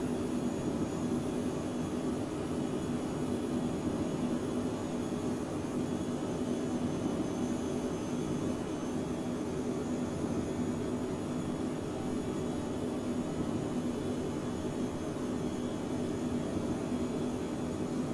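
A Phenom 100 jet banks through a sharp turn just after takeoff in Microsoft Flight Simulator 2020, its engines giving a steady, even roar with a high whine on top, continuous and unbroken throughout, with no voices.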